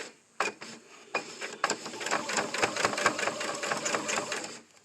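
A sewing machine stitching pleated fabric for a mask, starting with a few short bursts before running in a fast steady mechanical chatter that stops abruptly, heard up close without talking.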